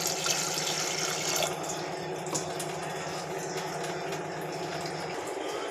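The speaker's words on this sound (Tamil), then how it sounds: "இதில் கொஞ்சம் தண்ணி ஊற்றிக்கலாம்" Water runs steadily into a pot of washed lentils, a continuous splashing pour with faint clinks, fairly close and with no talking.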